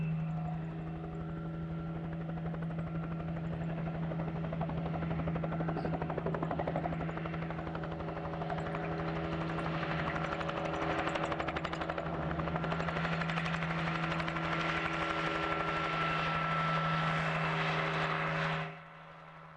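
Helicopter rotor and engine drone, steady and loud throughout, used to chase and frighten wild horses in Nevada, holding a constant throbbing hum before cutting off abruptly near the end.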